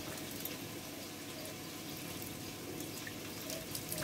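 Tap water runs steadily into a cup to rinse dust from what sits inside, a continuous soft splashing flow that stays close and even for the whole stretch with no talk.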